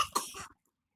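A child coughs twice in quick succession at close range, the bursts harsh and throaty and ending in silence after about half a second; the child has a cold.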